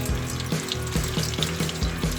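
Steady sizzling of tilapia frying in a pan, a continuous crackle with soft periodic clinks, close and fairly loud, no talking.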